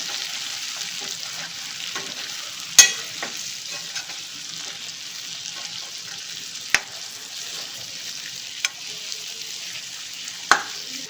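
Chicken karahi sizzles loudly in a pan as spices are sautéed into it, a continuous hiss broken by a handful of sharp spoon clacks against the metal.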